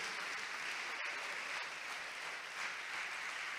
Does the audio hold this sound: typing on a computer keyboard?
no